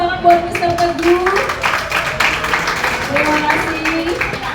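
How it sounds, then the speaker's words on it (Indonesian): Clapping at a 10th anniversary celebration for a coach, Mr. Teguh: a brief, fairly close burst of hand claps mixed with voices and background music. "Berikan tepuk tangan buat Mr. Teguh."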